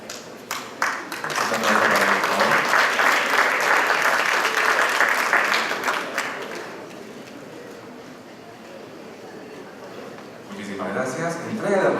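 At a housing development conference award ceremony, an audience applauds an architect receiving recognition. Dense clapping swells for about six seconds, then fades, and a speaker's voice follows.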